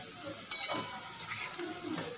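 Homemade Malvani chili powder is stir-fried in a pan, giving a soft, close sizzle with a brief scrape of stirring near the start and gentle movement after.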